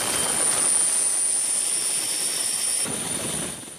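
Military rescue helicopters flying over flood devastation in Sri Lanka, a steady loud turbine roar with a thin high whine running throughout and no voices, easing slightly toward the end.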